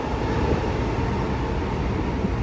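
An M train at Kwai Fong Station in Hong Kong gives a steady, even rumble of rolling stock at moderate volume, a continuous mechanical drone with no voices.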